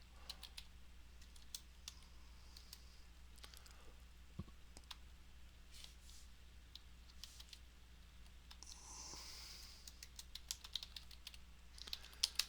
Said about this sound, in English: I'm typing in California map of counties